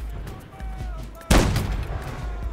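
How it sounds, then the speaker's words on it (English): A loud, booming report from a mortar or cannon in the Napoleonic-era battle game Holdfast: Nations at War crashes in midway through, then rumbles and decays into distant background gunfire. "That was the mortar, actually. They're shooting on cannons on the right."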